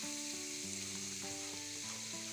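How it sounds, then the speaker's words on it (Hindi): Chopped carrots fry in melted ghee for a winter dessert, giving a steady, fairly quiet sizzling hiss that runs unbroken beneath background music with sustained tones. "अब ये जो मैंने गाजर काट के रखा था इसको डाल देंगे। इसको हमने उस वक्त तक भूनना है जब तक इसका थोड़ा कलर चेंज ना हो जाए।"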